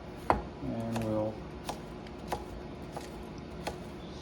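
A curved blade chops through a stalk of mild Napa cabbage on a board, giving a few crisp, separate knocks spaced about a second apart, with a short stretch of voice early on.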